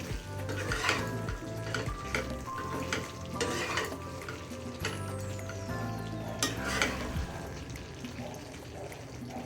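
Potol (pointed gourd) being stirred with dahi and raw mustard oil in a pan, with repeated scraping of a utensil against the metal over a soft steady sizzle, close and continuous.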